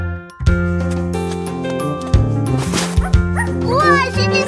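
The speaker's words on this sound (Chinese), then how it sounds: "小狗宾果" Cartoon puppy Bingo from a Mandarin children's nursery-rhyme animation gives a few yips and barks over a bright, steady music backing.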